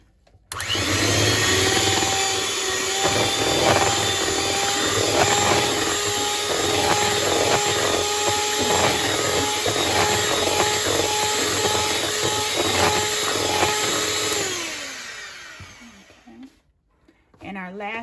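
An electric hand mixer whirs steadily through pineapple coconut cake batter, a loud continuous drone with faint rhythmic clatter against the bowl, cutting off near the end followed by a brief clunk.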